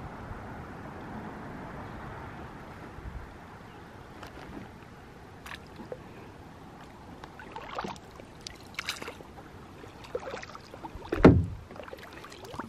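A canoe is paddled on a lake in Ontario, Canada, with soft, irregular paddle dips, drips and splashes against a quiet background of water lapping, and one louder splash near the end.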